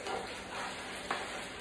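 Chicken seasoned with black pepper frying in oil, giving a steady, soft crackling sizzle throughout with one brief louder pop near the end, no talking.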